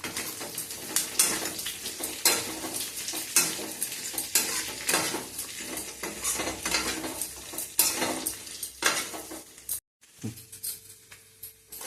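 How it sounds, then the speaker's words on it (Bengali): Paneer stir-fries with capsicum, onion and chilli in a pan, a close sizzle broken by frequent scraping and clattering of a spatula against metal, then a brief pause and a lighter sizzle. "এইভাবে এগুলি 2 মিনিট নাড়াচাড়া করে একটু ভাজা করে এর মধ্যে ক্যাপসিকাম, পেঁয়াজ, লঙ্কা সব একসাথে দিয়ে দিলাম।"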